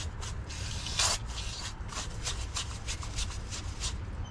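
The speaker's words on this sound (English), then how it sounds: "So I'm using brake cleaner." Brake cleaner sprayed around the grease-caked rear brake area of a 1995 Chevy Silverado, heard as a steady aerosol hiss with a brief stronger burst near the start, close and moderately loud, no talking.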